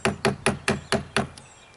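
A wooden mallet or hammer drives a carving tool into a pine knot being carved into a wood spirit face, six sharp, evenly spaced knocks close up, each ringing briefly, with no talk.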